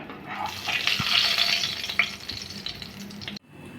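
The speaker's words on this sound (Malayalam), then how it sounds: "നമ്മളിത് എണ്ണയിലേക്ക് ഇട്ടതിന് ശേഷം ഇളക്കി കൊടുക്കരുത് അത് മൂത്ത് വരണം" Ginger frying in hot oil for puli inji, a loud continuous sizzle and crackle close up that cuts off abruptly near the end.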